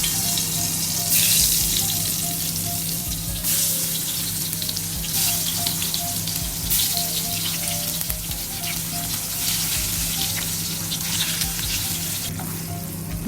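Brinjal pieces sizzle steadily in hot coconut oil in a pan, a continuous close frying crackle with occasional stirring and clinks, no talking.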